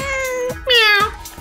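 Cat meowing in the video game Persona 4 Golden, two loud, close meows in a row, the second higher and more drawn out, with no talk over them.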